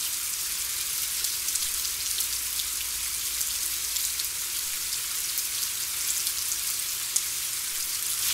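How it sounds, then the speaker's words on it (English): Steady rain falls in Costa Rica, a dense, even hiss of drops on surfaces that stays constant throughout with no voices. "We wake to the sound of rain."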